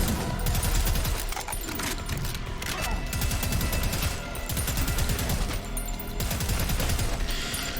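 Rapid automatic fire from shoulder-mounted SMGs in the retro-style shooter Prodeus, loud dense crackling bursts running almost without pause over a heavy game soundtrack.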